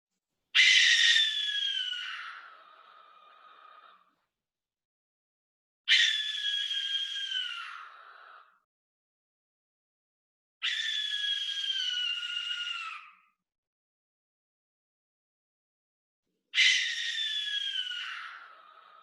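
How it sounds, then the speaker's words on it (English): Owl giving harsh, drawn-out shrieking screams, four separate calls, each lasting a couple of seconds and fading away, with clear silent gaps between them. The calls are loud and close, with no other sounds. "Some of them shriek and shriel and scream."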